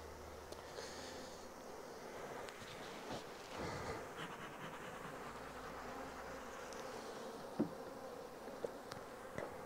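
A large honeybee colony hums around an open hive during a frame inspection in Provence, a soft steady buzz close by with a few faint knocks and handling sounds.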